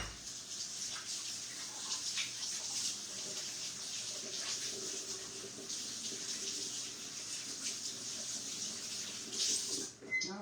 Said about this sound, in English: we are going to wash our hands